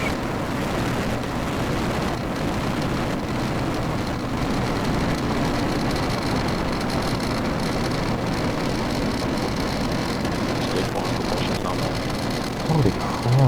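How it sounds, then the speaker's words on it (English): A Falcon 9 rocket lifting off on a Starlink launch gives a steady, broad roar that fills the whole span without letup, loud and rumbling like distant thunder with a rain-like hiss. "Ignition. Liftoff."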